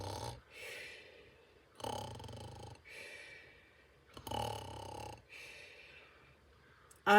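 A voice imitates snoring, drawn-out rasping breaths repeated about four times with short pauses between them, close and fairly loud.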